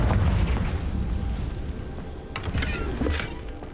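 Confringo fire spell detonating in the game Hogwarts Legacy, a deep rumbling boom that rolls on under a steady low roar, with sharper bursts flaring up near the end.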